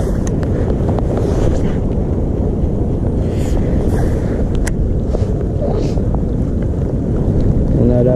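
Cold, gusty wind blows across a lake while fishing for pike on a rainy morning, buffeting the microphone in a continuous loud roar with scattered knocks and splashes.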